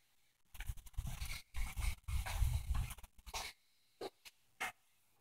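Dog panting in a basement, quiet bursts of rapid breathing that stop and start, followed by a few short, faint huffs.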